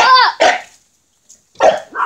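A small, rough-playing dog lets out a couple of sharp close barks, then falls quiet briefly before another bark and a whiny yip follow, loud and near.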